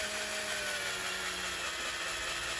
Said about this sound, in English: See how nicely that drills then?